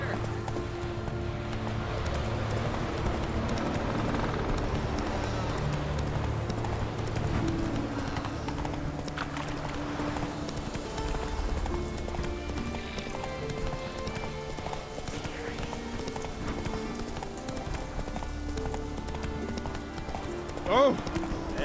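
Horse hooves clip-clop at a steady trotting rhythm in The Witcher 3, running continuously under game music and background noise while voices talk over it.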